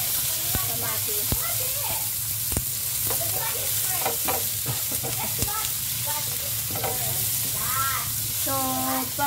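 Sliced onions stir-fried in a pan, a steady broadband sizzle running throughout with repeated sharp scrapes and clinks of a utensil against the pan; birds call faintly in the background.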